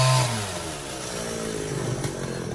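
A chainsaw cuts into a leaning coconut tree outdoors, its engine revving loud and close, then settling into a steady buzzing drone with slight rises in pitch.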